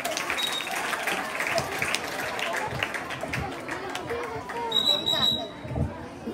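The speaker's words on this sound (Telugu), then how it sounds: "గట్టిగా చప్పట్లు." Loud, steady applause fills a crowded hall at a retirement farewell gathering, with clapping and crowd murmur running continuously under scattered voices.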